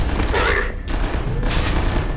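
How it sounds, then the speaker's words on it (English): Gunfire from a first-person shooter, Entropy: Zero 2, with rapid bursts of shots sustained across the whole stretch, loud and dense, with a slight gap in the middle. "I thought I saw the gunfire"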